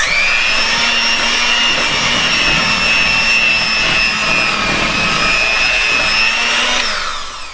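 Electric hand mixer beaters whirring through pound cake batter of flour, butter flavoring and milk in a bowl, a loud steady high whine that runs unbroken for about seven seconds before winding down.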